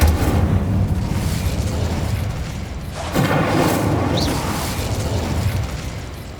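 Casting the Incendio fire spell in Hogwarts Legacy sets off a loud, booming burst of fiery energy, with roaring rumbles that swell and fade across several seconds amid combat effects.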